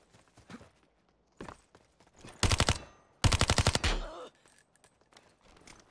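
Two short bursts of automatic gunfire in the video game Super People, a brief volley followed by a slightly longer one, with faint footsteps and quiet game sounds around them.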